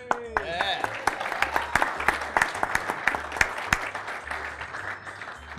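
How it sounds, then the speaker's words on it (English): A small audience at a team event gives a round of applause, with scattered, fairly quiet claps in an irregular rhythm after a brief voice at the start. "Round of applause."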